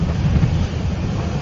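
Gusty wind roars across the microphone while big waves wash and slap against a sailboat moving fast upwind at sea, a dense, continuous rumble with no voices.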